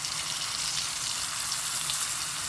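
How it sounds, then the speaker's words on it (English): Sliced zucchini sautéing in a pan, a steady, dense hiss of frying that stays loud and even throughout, close up with no voices. "I'm just going to start turning these over as I can, saute on the other side"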